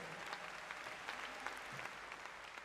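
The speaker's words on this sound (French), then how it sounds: "je vous demande d'applaudir très très fort" Audience at a comedy show applauding, a faint, distant wash of continuous clapping with scattered sharper claps throughout.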